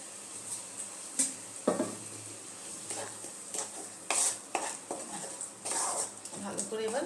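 A spoon clinks and scrapes against a pot as Punjabi-style chana masala with kabuli chickpeas, fenugreek and chole masala is mixed, the taps irregular and close under soft talk and a faint sizzle.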